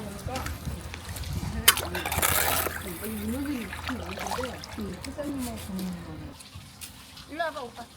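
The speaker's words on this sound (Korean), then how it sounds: "물, 물 나와요." Water gushes from an outdoor faucet during a volunteer cleanup of a barefoot walking path, where stagnant rotten water and mud are being washed away; a short splashing rush rises above nearby voices talking throughout.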